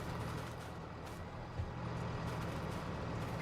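A truck in Farming Simulator 22 drones with a steady, dense engine rumble that holds level throughout, with one brief low thump partway through and no talk.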